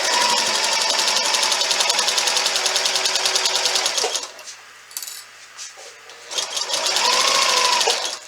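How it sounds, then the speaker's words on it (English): Up close, a sewing machine runs at speed stitching binding onto a quilt, a loud continuous whirr that stops briefly and then starts again. "I'm going to sew over that a little bit"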